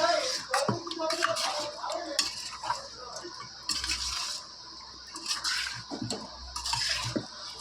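Raw chicken being worked by hand with salt for a white rezala marinade, giving wet squelching, slapping and rubbing noises in an uneven rhythm, close and fairly loud, with no talk.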